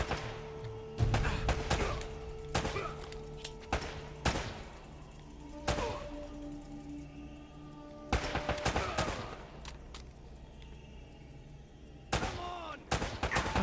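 Handgun gunfire in the Uncharted video game: a string of sharp, loud single shots spaced irregularly, several closely grouped, each with a short ringing tail over low background game ambience.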